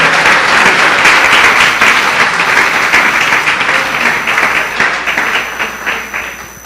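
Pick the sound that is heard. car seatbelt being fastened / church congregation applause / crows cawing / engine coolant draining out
church congregation applause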